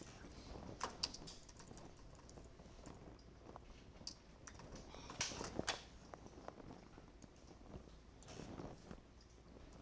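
Quiet keystrokes tap on a computer keyboard in short irregular bursts, close and soft against a faint room hiss, with a few louder clusters of keypresses midway.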